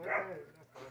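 A farm dog barks a few times up close, the loud bark fading out, with people talking over and around it.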